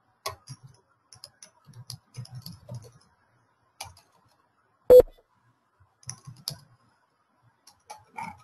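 Computer keyboard typing, sparse clusters of soft close key clicks with gaps between, quiet overall, plus one sharper louder tap midway.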